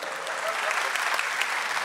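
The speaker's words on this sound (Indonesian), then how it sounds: "Tepuk tangan untuk Dimas" Steady applause from a live comedy-show audience, dense and even for about two seconds, with faint crowd murmur beneath and no speech.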